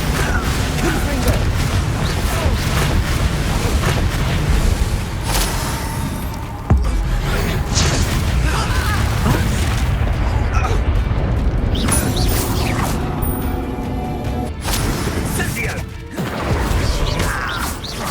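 Loud fire-spell explosions in a Hogwarts Legacy arena duel, with repeated booming crashes and impacts over dense game effects and music.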